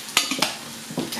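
Steady sizzling of meat frying in a pan, punctuated by a few sharp scraping stirs of a utensil against the pan.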